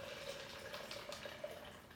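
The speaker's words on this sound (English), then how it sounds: "So I'm going to pour this tea in" Rose and saffron tea poured into a container, a soft steady trickle of liquid, quiet and continuous with no speech.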